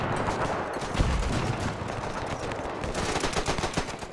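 Machine-gun and rifle fire in the WW1 video game Between Empires, dense rapid volleys of overlapping shots crackling continuously over a few seconds with occasional heavier thumps, fairly loud and busy.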